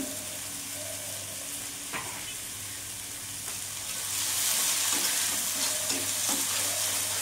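Fish curry with salt and turmeric stirred in a pan over a low flame, with a low steady sizzle, scattered utensil scrapes, a constant low hum underneath, and frying that grows a little louder near the end.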